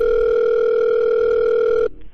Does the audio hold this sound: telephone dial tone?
yes